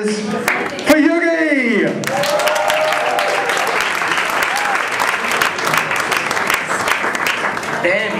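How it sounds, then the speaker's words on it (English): A stand-up comedy audience breaks into loud, sustained applause and cheers for a comedian, with a voice calling out over it at the start and whoops scattered through the clapping. "let's build up a nice warm round of applause and throw in some whoops and cheers for Yugi"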